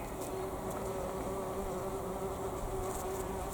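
Bees buzzing steadily around flowering roses in a kitchen garden in May, a soft continuous hum close by with no talking.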